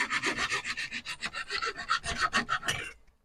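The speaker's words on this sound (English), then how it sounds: "we got it chucked up here in the vise, so we're just going to cut this off" A knock-off fishing lure clamped in a vise is cut, giving a fast, even rasping stroke repeated about a dozen times for three seconds before stopping, close and fairly loud.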